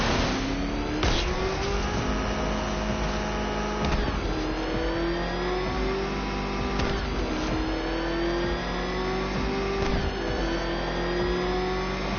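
The Batmobile in Batman Arkham Knight roars as it accelerates with its afterburner, its engine pitch climbing in repeated rising sweeps, each ending in a sharp shift before it surges again. The sound is loud and close and carries no voices.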